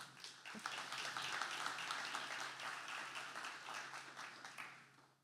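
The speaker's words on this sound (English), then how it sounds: "give my team a round of applause" Audience applause for a team at the MYA Partner Summit, a dense, steady patter of many hands that holds for about five seconds before easing off, fairly quiet overall.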